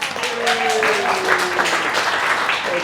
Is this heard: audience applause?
yes